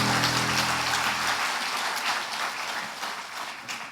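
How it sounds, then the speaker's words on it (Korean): A church congregation gives loud, sustained applause to bless the teachers at a Korean Teachers' Sunday worship service, dense clapping that tapers slightly as a held organ tone drops out early. "큰 박수로 축복하겠습니다"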